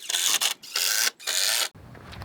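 A powered driver whirs as it sinks screws into a wooden fence gate frame, in three loud, sustained bursts close by with short pauses between, and no talking.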